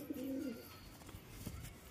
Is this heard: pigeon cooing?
yes